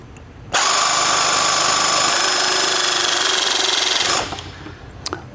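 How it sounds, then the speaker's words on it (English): An SPR-Pro rivet tool setting a 3 mm self-piercing rivet through stacked metal pieces gives one loud, continuous mechanical whir that lasts about three and a half seconds, then cuts off abruptly with a few faint clicks after. "and we're going to go ahead and set a rivet."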